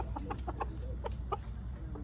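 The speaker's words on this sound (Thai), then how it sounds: "เดินมาดูไก่นะครับ" Backyard chickens in a small home garden cluck and murmur in short repeated bursts at close range, with a steady low rumble of background noise beneath them.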